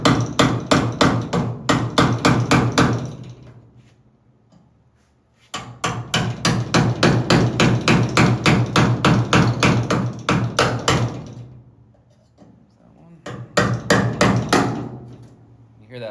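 Loud, rapid hammer blows on the old body metal of a 1957 European Karmann Ghia as the panels are separated during restoration, coming in three dense bursts with short pauses between them.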